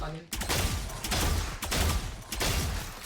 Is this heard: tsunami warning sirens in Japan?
no